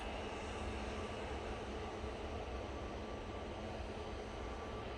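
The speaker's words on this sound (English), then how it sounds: "His mum was on the Jet 2 plane to Malaga, taking off within the next 5 minutes." A Jet2 airliner at Manchester Airport produces a steady, loud, broadband engine roar that holds constant throughout, heard at a distance with no voices over it.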